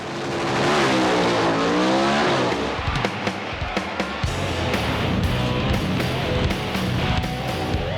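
Vintage muscle cars, including a Chevy Nova, race at Bristol Dragway, with loud roaring engines revving and accelerating, then a rougher rumbling stretch with sharp crackles, close and continuous.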